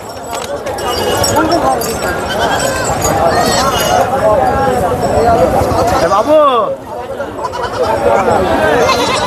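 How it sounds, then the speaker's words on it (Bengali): Many goats bleat loudly and repeatedly, overlapping in a dense chorus amid busy market noise and people talking, at a clothing market in Krishnanagar. "এখানে দেখো গাড়ি ভর্তি ছাগল রয়েছে"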